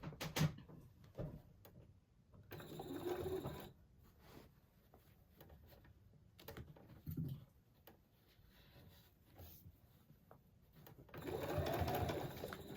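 A sewing machine stitches near a side seam in short, quiet bursts separated by pauses, with faint handling clicks and rustles between runs and a longer burst near the end.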